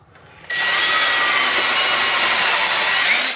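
A loud power drill with a number 9 bit, boring holes for a 10-32 fastener, starts abruptly and runs continuously for about three seconds with a steady, bright whine, then winds down.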